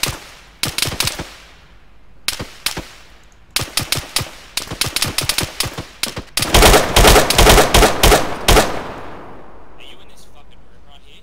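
Gunfire in the video game Arma 3: sharp single shots, then rapid bursts building into loud, sustained automatic fire before fading, with a voice speaking briefly over it.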